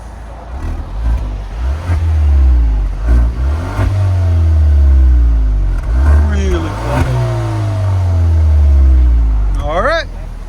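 A Kia Stinger 2.0 Turbo with its exhaust returned to a quiet factory setup idles and revs several times in long, smooth swells, fairly close, with someone talking over parts of it.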